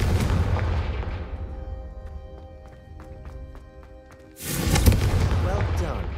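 An Incendio fire spell cast in Hogwarts Legacy, a sudden loud whooshing burst of flame that swells near the end after fading, ringing game sounds, with talking in the background.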